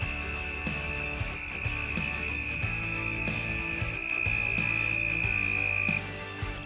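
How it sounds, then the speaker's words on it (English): A chorus of red-spotted toads trilling steadily during Arizona monsoon breeding, one high buzzing trill holding strong and continuous over fainter overlapping calls, with no voices. "the toads that we hear calling are all red-spotted toads"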